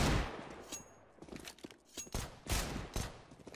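Rapid bursts of gunfire from an online multiplayer shooter, several close, sharp shots and short volleys firing in uneven succession, loud and alone with no talk.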